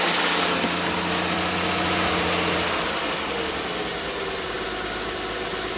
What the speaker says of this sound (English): It's idling on its own.